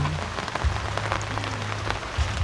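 Heavy rain pours steadily on a surface at a rural Thai home, a dense continuous hiss with scattered drop impacts and a low rumble underneath, no speech.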